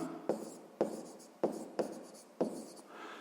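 A pen scratches across paper in five quick bursts of writing, each with a sharp start, close and quiet, as someone works a sixth-grade math exercise, with no talking.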